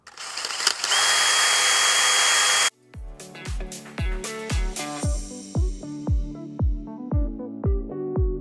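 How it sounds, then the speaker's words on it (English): A power drill whirs steadily for about two seconds, drilling 1/8 inch holes for a custom jack plate, then stops, followed by a rhythmic series of ringing metallic knocks. "let's drill these 1/8 inch holes"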